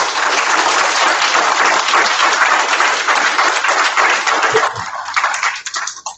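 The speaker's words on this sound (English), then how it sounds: "So let's all give Mr. Gage a round of applause." Loud, close audience applause, a dense roar of many hands clapping that holds steady and then thins into scattered claps toward the end.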